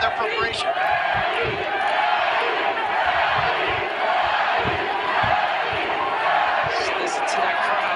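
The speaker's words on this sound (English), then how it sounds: "Listen to that crowd. They're enjoying this." Boxing arena crowd roaring steadily throughout the Pacquiao vs Barrios fight, a dense, loud wash of cheering with scattered thumps and shouts close by, with commentary voices woven in.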